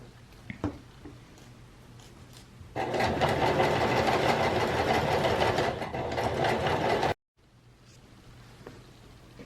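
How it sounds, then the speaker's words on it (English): A sewing machine back-stitches over elastic on a fabric mask, running steadily and loudly for about four seconds before stopping abruptly, with quiet handling sounds before and after. "I'm just going to back stitch over the elastic for extra stability."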